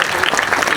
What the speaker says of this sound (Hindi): बजाइए ताली जोरदार।